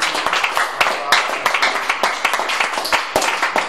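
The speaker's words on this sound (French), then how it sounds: "Est-ce qu'on peut donner une acclamation?" Congregation applause in a French-speaking church service, lively clapping with distinct individual claps and cheering voices mixed in, close and energetic.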